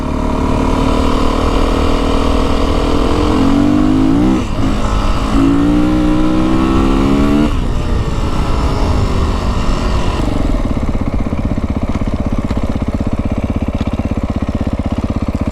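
A 2025 Beta 350 RR X-Pro dirt bike rides in fourth gear: a close, buzzy single-cylinder engine revs up and down in repeated throttle swells, then settles into a steady drone.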